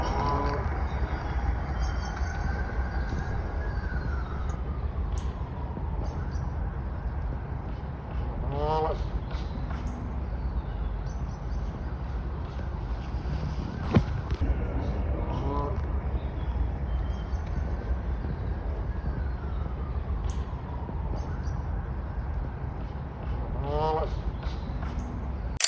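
Low mooing calls repeat a few times at a distance, made by a duck, mixed with outdoor lakeside ambience and occasional short bird-like calls.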